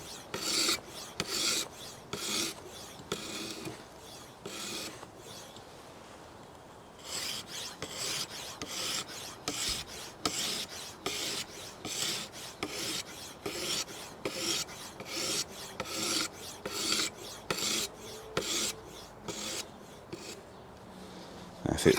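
A knife blade drawn across a stone on a KMFS Vantaedge sharpener in repeated single-direction passes, giving a steady rhythmic rasping stroke after stroke, close and fairly loud with brief pauses between strokes.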